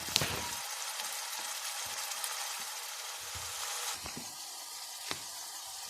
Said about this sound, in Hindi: साथ साथ हमारा मसाला फ्राई हो रहा है